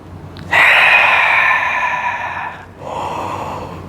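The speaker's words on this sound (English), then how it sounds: "Inhale up. Exhale it down." A deep yoga breath in a vinyasa flow: a loud, close, airy inhale lasting about two seconds, a short break, then a softer, longer exhale, with no speech.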